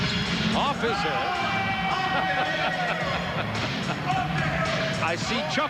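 A basketball bounces during the 1994 slam dunk contest, with scattered thumps beneath continuous commentary and a loud arena crowd.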